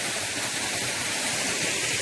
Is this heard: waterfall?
yes